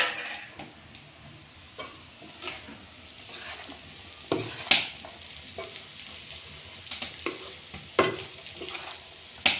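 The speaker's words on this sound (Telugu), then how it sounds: "ఇప్పుడైతే కాకరకాయలు వేస్తాను" Small bitter gourds stir-fry in a pan with onion and garlic chilli masala, a soft sizzle under repeated scraping and stirring clinks of a spoon against the pan, close and fairly quiet.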